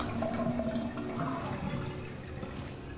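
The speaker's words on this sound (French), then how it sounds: "Vider la baignoire." Water drains from a bathtub in the video game Resident Evil Revelations, a soft, continuous gurgling rush heard faintly and alone.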